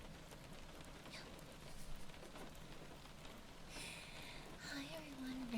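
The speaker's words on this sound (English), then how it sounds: "Is the rain loud for anybody else?" Steady rain patters outside a cozy room, a dense continuous hiss that stays soft and even throughout, with faint brief sounds and a voice surfacing near the end.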